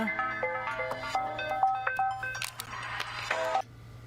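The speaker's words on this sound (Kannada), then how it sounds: "ಯಾರೋ ಫೋನ್ ಮಾಡಿದ್ದಾರೆ ಕಣೋ" A phone rings with an incoming call, playing a repeating electronic melody of stepped beeping tones for about four seconds over a low steady hum.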